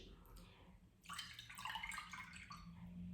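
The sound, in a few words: granita mixture poured into a glass dish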